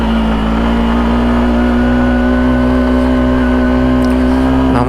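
A vehicle engine in first gear labors up a steep, winding hill road on the way to Keokradong, producing a loud, close, sustained straining drone that holds steady with slight shifts in pitch.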